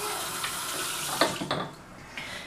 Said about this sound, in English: And then I wash my hair.